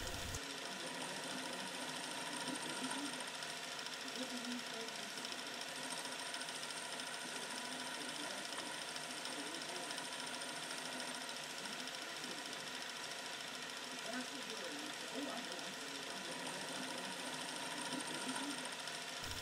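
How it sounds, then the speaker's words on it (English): A lathe milling attachment takes light cutting passes on a T-nut, giving a steady, continuous mechanical whirring hum with faint chatter that holds even throughout, fairly quiet, with no speech. "this takes quite a few passes because that milling attachment can't take off big hunks"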